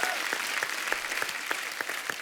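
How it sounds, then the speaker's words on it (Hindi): Studio audience on a comedy talk show claps for a film music composer, a fairly faint, steady patter of hands with regular sharper claps. "उसके लिए जोरदार तालियां"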